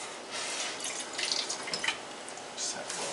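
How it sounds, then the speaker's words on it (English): Water is poured into a pot of homemade chili, making a steady splashing hiss with brief bright trickling spots. It is fairly quiet and continuous, and no one speaks. "And as you see, the water level is rising."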